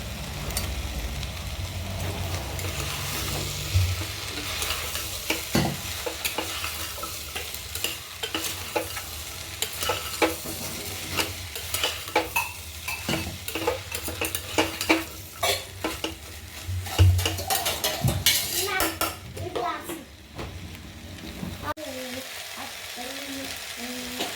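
Potatoes and carrots sautéing in a pan for beef stew, with a steady sizzle and stirring scrapes running throughout, occasional utensil knocks, and the sizzle dropping away near the end.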